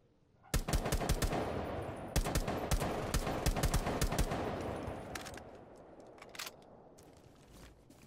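Automatic gunfire from the video game Rainbow Six Siege rattles out in rapid bursts, loud and continuous at first, then thinning to a few scattered shots toward the end.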